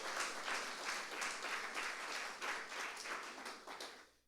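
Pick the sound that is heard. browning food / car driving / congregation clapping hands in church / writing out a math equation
congregation clapping hands in church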